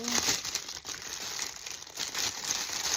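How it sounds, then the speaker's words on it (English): Crinkly plastic bag rustles and crumples as a planner insert is unwrapped and pulled out, close, continuous crackling with a few sharper tears and no talking. "unwrap it and take it out of the bag"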